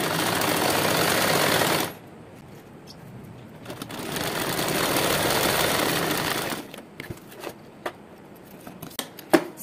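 An electric sewing machine stitches buckram onto a salwar in two sustained whirring runs, the first loud and the second slightly softer, separated by a brief pause and followed by scattered clicks and handling taps as the stitching stops.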